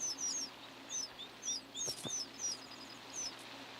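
Birds in the Texas cross timbers give a quick series of thin, high chirps in short bursts, repeated about ten times in a steady rhythm, fairly faint over a quiet background.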